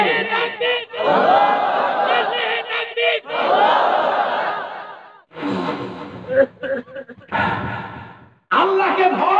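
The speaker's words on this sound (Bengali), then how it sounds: "একটা তাকবীর লাগান জোরে করে দেখি কে।" A large crowd at an Islamic religious sermon gathering loudly shouts takbir in unison, several powerful chanted bursts separated by brief pauses.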